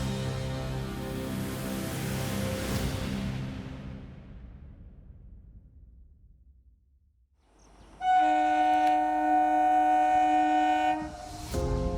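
A local train rumbles past on the tracks and fades away. After a brief lull, a loud, sustained train horn blares for about three seconds, then cuts off.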